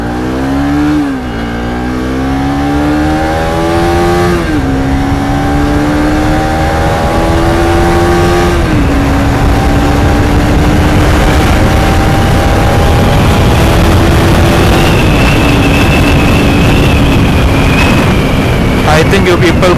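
A Bajaj Pulsar NS200 motorcycle fitted with a slipper clutch revs hard through several gears on a drag run, its loud engine note climbing in pitch and dropping at each shift, with a whining tone rising near the end.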